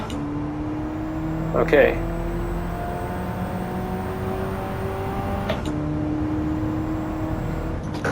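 A race car in Gran Turismo 7 driven hard into a corner with trail braking, engine tone falling and rising through gear shifts under a steady drone, while someone speaks briefly over it.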